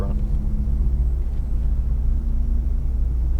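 A deep, steady engine rumble from a Mercedes-AMG GT R rolling slowly at Nelson Ledges racetrack, low and throaty, continuous throughout with no voices.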